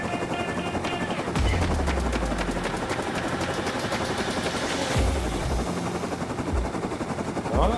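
Rapid bursts of video game gunfire rattle over a constant mechanical drone, a few sustained automatic volleys at moderate level with short gaps between them.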